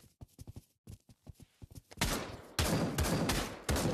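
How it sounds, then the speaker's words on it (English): Gunfire in the VR shooter Pavlov: quick bursts of faint, snappy shots, then loud close heavy blasts in a rapid sustained volley. "He tried to shoot me. He started shooting at bro"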